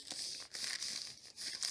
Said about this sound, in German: die Tüte ordentlich drauflegen und festkleben